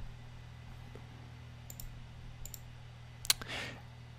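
A computer mouse clicks once to launch Codex MAV image analysis software, a single sharp click standing out from faint room hum with a quieter click or two nearby.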